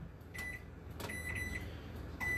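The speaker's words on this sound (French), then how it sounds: "Et j'envoie ça 7 minutes au micro-ondes." A microwave oven set to a grill-cover mode runs with a faint, steady hum, broken by a few short clicks and thin electronic tones. The sound is quiet and close, with no voices.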